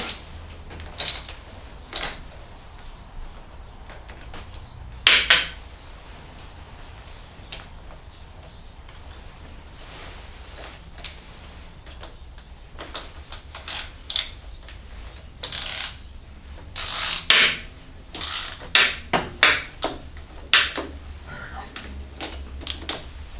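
Bolts being tightened on a 1981 Honda CB750 fitted with a Kawasaki Ninja 636 fork conversion: scattered metallic ticks and ratchet-like clicks, close by, in irregular bursts that bunch together toward the end.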